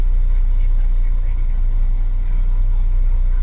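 A truck's engine rumbles steadily and loud with a deep low drone while the truck backs up, holding an even, unbroken hum throughout with no distinct beeps or changes.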